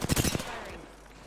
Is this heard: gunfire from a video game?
yes